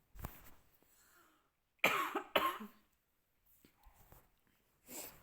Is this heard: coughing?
yes